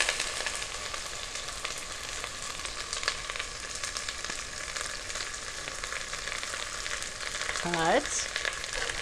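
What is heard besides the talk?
sliced tomatoes frying in melted butter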